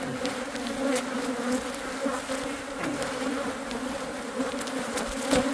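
Dense, steady buzzing of a honey bee swarm around a disturbed hive, loud and close throughout, with individual bees zipping past the microphone.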